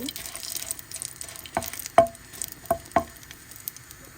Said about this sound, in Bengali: মরিচগুলোকে ভালো করে ভেজে নেব